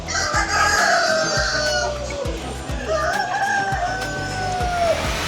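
Several chickens cluck and squawk continuously while roosters crow in long, loud calls, close by and overlapping in a busy, noisy chicken market in Mombasa, Kenya.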